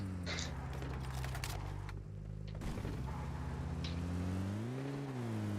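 A car engine drones low and steady in a video game, its pitch rising and falling near the end, with some gunfire-like bangs and game noise over it.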